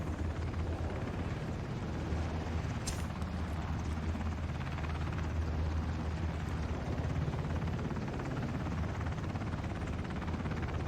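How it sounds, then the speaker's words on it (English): Helicopter in the video game Ring of Elysium drones steadily with a dense, rumbling rotor and engine roar, loud and unbroken throughout, with a brief sharp crack partway through. "I need to go for chopper."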